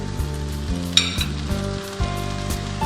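Chicken chowmein sizzles loudly in a hot pan as soy sauce goes in, a constant crackling fry broken by bursts of stirring and clattering utensils.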